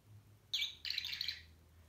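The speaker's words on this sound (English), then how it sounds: "why do you have a bird on your face?" A small bird gives a quick burst of bright, high chirps, a short note followed by a rapid trill lasting about a second, fairly close and alone over quiet background hum.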